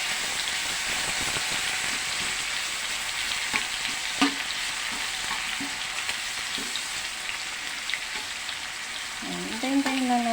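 Tomatoes fry with pork in a pan, a steady hissing sizzle heard up close with occasional utensil taps and stirring, and a brief voice near the end.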